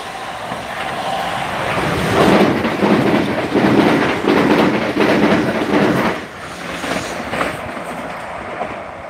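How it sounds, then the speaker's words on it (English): An EMU electric train, class 444, pulls into a station, its wheels clattering over rail joints in a loud rising rumble that swells and then eases as it slows. "Right, we have a train coming."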